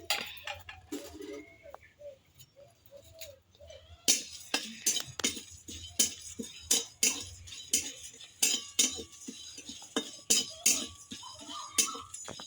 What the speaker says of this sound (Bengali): আমি প্রথমে ভাজা মশলাটা করে নিচ্ছি